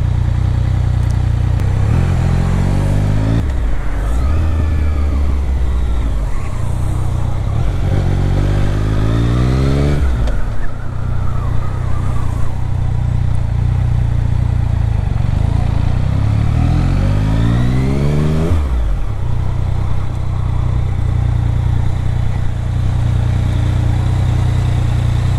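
Motorcycle engine revving hard during wheelies, loud and close throughout, with several rising and falling rev sweeps as the throttle is worked.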